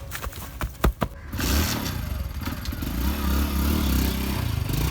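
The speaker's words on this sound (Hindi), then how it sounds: "यार मेरा तो नया मोटरसाइकिल लेके गया है।" A new motorcycle is ridden off, starting with a few sharp clattering knocks and then a sustained, rough engine drone that holds steady and fairly close, with no speech.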